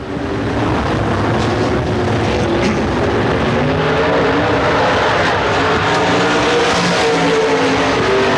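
A dirt track race car runs a qualifying lap at Pennsboro, its engine a dense, steady roar heard from a distance amid heavy wind noise on the microphone, with no clear pass-by or gear changes.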